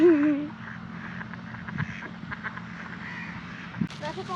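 Ducks quacking briefly at the start, close and loud, followed by a person talking over faint rustling and movement outdoors.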